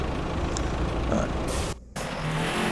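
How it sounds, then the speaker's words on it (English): Dump truck engine in the Roadcraft video game, a steady low rumble that runs throughout, briefly cut out by a short gap of near silence before resuming. "So this is the dump truck."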